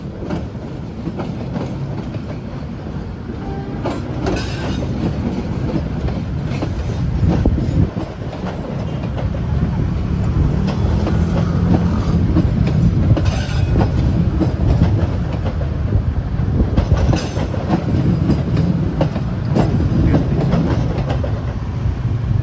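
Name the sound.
Papandayan passenger train passing slowly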